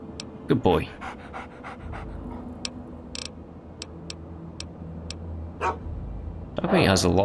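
Dogmeat, the dog companion in Fallout 3, pants in quick bursts close by, with ticking game sounds and someone talking at the start and end.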